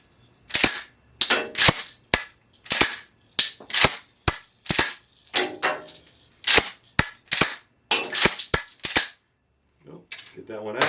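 A police trade-in pump shotgun being cycled with an inert round, a run of sharp metallic clacks and snaps from the action and ejection in quick irregular succession, loud and close.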